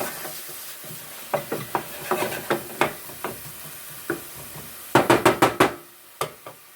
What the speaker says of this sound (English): every now and then I will go back and stir them